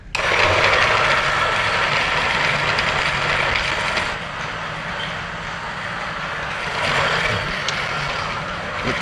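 An espresso coffee grinder grinds beans in a loud, steady whir lasting the full stretch, with a brief dip in intensity partway through before it picks back up.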